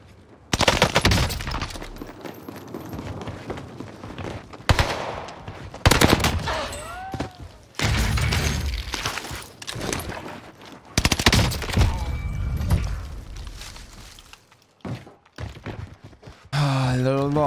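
Gunfire in the Call of Duty Warzone video game: repeated rapid machine-gun bursts and single shots in clustered volleys separated by short pauses, fairly loud, with a voice speaking at times.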